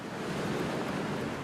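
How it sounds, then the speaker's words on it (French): Waves break and wash steadily onto a large, clean Algerian beach, a continuous broad roar of surf with some wind rumble, loud and unbroken, with no voices. "J'aime cette plage parce qu'elle est grande et qu'elle est propre. Et les vagues sont super."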